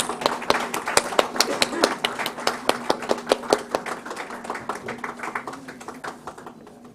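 Audience at the Nepal Investment Summit 2024 applauds a moderator with steady, fairly sparse rhythmic clapping that gradually thins and fades toward the end.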